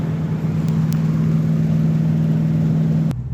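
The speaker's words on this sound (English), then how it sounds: "Car's running great." A 64-year-old beater car's engine idles steadily up close, a constant low hum with a faint whir, cutting off abruptly near the end.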